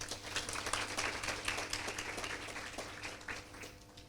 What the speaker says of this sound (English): Can we please give it a round of applause?